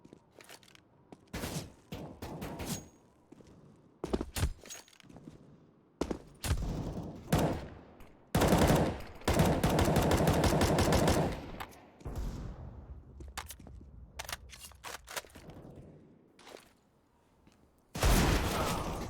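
Deagle and pistol gunfire in the video game CS:GO on the Nuke map during an esports pistol round, with sharp single shots and rapid volleys in close bursts separated by brief quiet.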